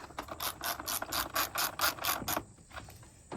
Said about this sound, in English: now tighten the bolts down